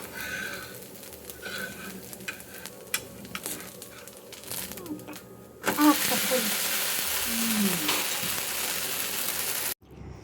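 Dosa batter hisses and sizzles loudly on a hot tawa, a steady frying roar after a quieter stretch of background voices and household noise, with people talking nearby.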